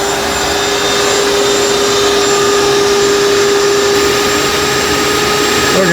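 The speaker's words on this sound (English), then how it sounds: "we've got this old shop vac we're going to use here" An old shop vac sucking water out of a planted fish tank runs close and very loud, a continuous steady whine and roar with a constant motor tone that holds for several seconds without talk.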